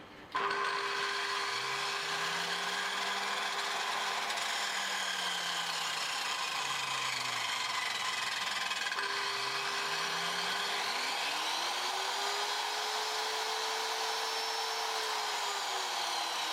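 Small power tool motor run through a compact soft starter, a steady electric whine and hum whose pitch glides down and back up as the speed is turned, continuous and close.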